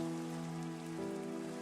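Steady rain falling in the video game Minecraft Skyfactory 3, an even, continuous patter with a soft tonal hum layered beneath it and no voices.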